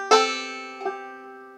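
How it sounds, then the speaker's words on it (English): A banjo's open fifth string is lightly tapped as a ghost note, two soft ringing plucks spaced under a second apart that decay quietly into silence. "you can kind of tap that 5th string. You're not really plucking it"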